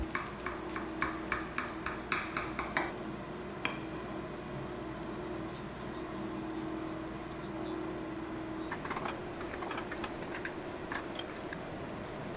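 Instant Pot lasagna sliced into pieces after the springform pan comes off: a run of quick clinks and scrapes from the utensil, then steadier kitchen noise with a few more taps near the end.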